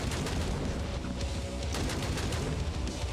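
A starting gun firing in the video game Hellbound, rendered as dense rapid gunfire with sharp repeated shots over a constant loud roar, no voice audible.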